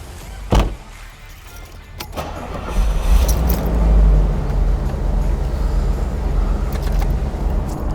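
A 1987 Bentley Continental Drophead engine is cranked and fires up, rising into a loud steady idle that runs on close by after a sharp click near the start.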